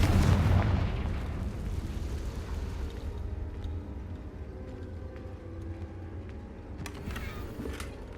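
A Confringo blast spell detonates in Hogwarts Legacy with a heavy booming explosion at the start, then a long rumbling decay and scattered crackles and pops trailing off over several seconds.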